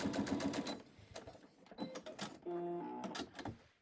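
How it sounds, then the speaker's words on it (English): A sewing machine runs a straight stitch along a quarter-inch seam, with short bursts of motor hum and needle clatter that stop and start, fairly close and moderately loud. "Quarter-inch seam allowance, straight stitch."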